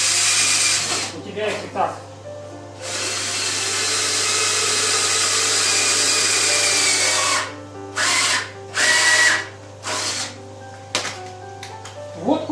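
Cordless screwdriver drilling into wood during a DIY loft-style kitchen build, a loud sustained whine running for several seconds, then short bursts, with someone talking over the start and between bursts.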